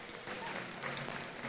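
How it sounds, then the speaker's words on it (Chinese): Audience applause at a Hong clan association gathering in Klang, Malaysia, following a song performance, a steady wash of many hands clapping together through the whole moment at moderate volume, without clear voices on top. "给个鼓励掌声好不好？"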